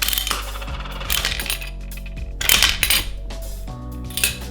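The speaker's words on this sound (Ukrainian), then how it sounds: "кидаєш монетку, крутиш і тільки потім отримуєш бажаний смаколик" Metal gumball vending machine taking a coin and having its crank turned: a coin clinks and drops inside, followed by ringing metallic clanks and ratchety turning, close and fairly loud.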